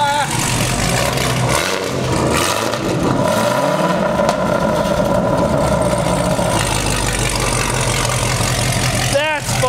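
A procharged Nissan 350Z with a Corsa exhaust revs hard, its engine rising and falling through loud, close sweeps before settling, with a few people talking over it.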